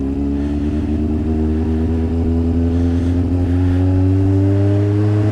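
A motorcycle engine revs loud and close as the throttle is twisted slowly, its steady drone climbing gradually in pitch through the clip, with no talking over it.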